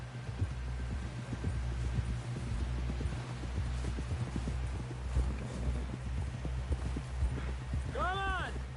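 Horse hooves clip-clop at a steady walking rhythm in the video game Red Dead Redemption 2, with a low droning hum behind them, and a brief whinny-like tonal cry near the end.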